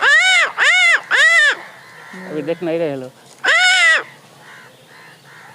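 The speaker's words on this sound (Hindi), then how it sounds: "अब हम पेड़ के पास बहुत दूर दूर से कौवा लोग आते हैं" Crows near a tree give loud, close caws in a quick series of three, then a pause, then another long caw. Softer squawks fill the gaps, and a person speaks briefly.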